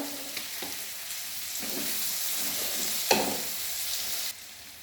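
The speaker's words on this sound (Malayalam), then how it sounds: "ഞാനൊരു 8 ഗ്രാമ്പു എടുത്തിട്ടുണ്ട്, അത് ഇതിലേക്ക് ഇട്ട് കൊടുക്കാം." Cloves dropped into hot oil for a chilli pickle sizzle steadily and loudly up close, with a few soft stirring knocks and a brief clatter before the frying noise drops off near the end.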